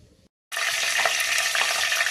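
Chilli and onion hit hot oil with a sudden loud sizzle after a brief silence, then keep frying in a steady, dense hiss with faint stirring clicks.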